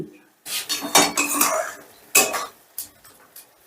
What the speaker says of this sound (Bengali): মশলাটা একটু নেড়ে চেড়ে মিশিয়ে দিচ্ছি